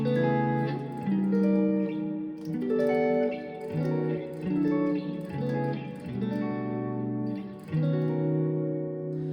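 Several strummed barre chords with an added seventh ring out one after another on guitar, each left to sustain with a warm, full tone, played alone without any talking.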